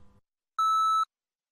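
A single clean electronic beep about half a second long sounds in an English language lesson after a short bit of speech, marking the listener's turn to repeat.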